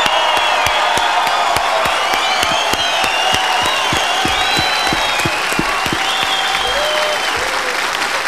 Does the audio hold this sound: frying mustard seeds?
no